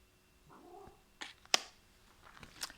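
A house cat meows and caterwauls in a few short, fairly faint cries spread over a couple of seconds, with small clicks and knocks in a quiet room.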